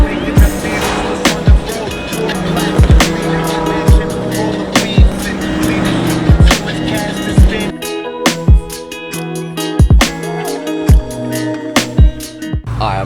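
A Toyota GR86 being tuned drives along a road, with a loud, steady cabin roar of engine and tires and regular thumps as the wheels cross seams in the pavement.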